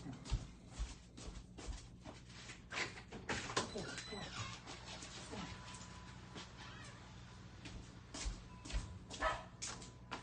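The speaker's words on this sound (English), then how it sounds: "I've got to go let my dogs out." Pet dogs indoors whine and give short yips and barks while wanting to be let out, faint and scattered under a person talking.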